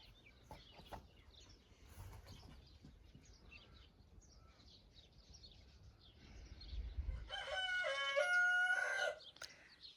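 Roosters crowing on a flower farm, one loud, close cock-a-doodle-doo rising near the end over quieter outdoor background and distant bird calls.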